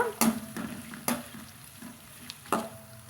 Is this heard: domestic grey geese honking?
no